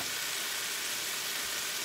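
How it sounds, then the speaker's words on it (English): Food sautés in a pan while chicken Alfredo is made at home, heard as a brief, dense, close hiss of sizzling with no voices. "while that's sauteing"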